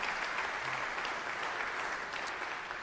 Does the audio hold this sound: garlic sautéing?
no